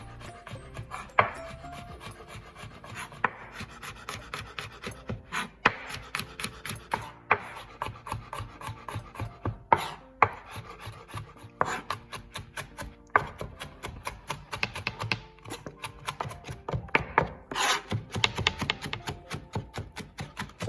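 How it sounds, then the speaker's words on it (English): Garlic being finely chopped with a knife on a wooden board, a long run of quick, close, crisp knocks in uneven bursts with no talking. "next just chop the garlic nice and fine"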